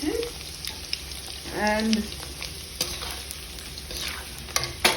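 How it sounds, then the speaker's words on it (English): Potatoes (aloo) fry with spices in a pan, a close steady sizzle broken by scraping stirs and clinks of a utensil, while a voice says a brief word. "So once we fry the aloo, we'll mix all these spices"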